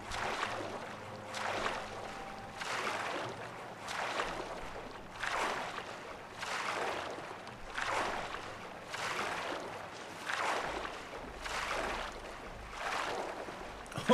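Rhythmic water splashes from swimming in Fallout 4, with regular whooshing strokes about once every second, moderately loud over a low background hum.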